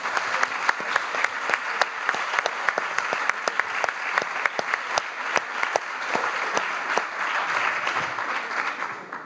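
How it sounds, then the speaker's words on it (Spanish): Applause from the audience at a book presentation: steady, lively clapping from a moderately sized crowd with sharp individual claps standing out, sustained throughout. "Un aplauso aquí a Consuelo."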